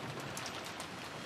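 Steady rain falls as a soft, even hiss with scattered light drops, heard as a quiet ambient loop in the Umineko visual novel with no voices.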